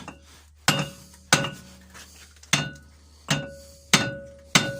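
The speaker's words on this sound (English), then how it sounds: "I'll give that a tap with a hammer, make sure it's not sitting on any high spots" A hammer taps a wheel nut on the axle hub of a Nooteboom four-axle lowloader trailer, giving seven sharp metallic clinks in an uneven rhythm, close and clear against a quiet background.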